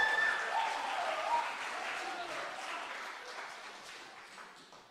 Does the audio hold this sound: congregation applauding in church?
yes